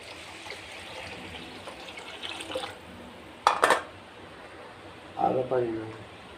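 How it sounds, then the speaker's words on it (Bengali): Water pours into a cooking pot of rice and lentils for khichuri, a soft running trickle with a few short splashy bursts, mixed with brief snatches of voice. "পানি দিয়ে দিব এখন।"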